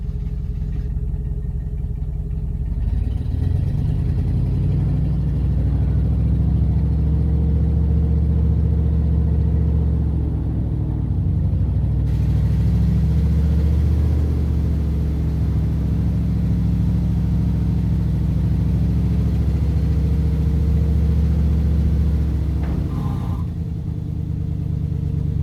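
A 1971 GMC dump truck's engine runs steadily with a deep, loud rumble as the bed is raised by hydraulic lever, holding a constant idle-to-mid drone with slight revving shifts throughout.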